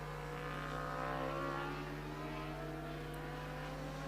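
A BMW racing motorcycle in the Alpe Adria International Motorcycle Championship passes at Slovakia Ring, its engine holding a steady high whine with shifting pitch over constant track noise, moderately distant.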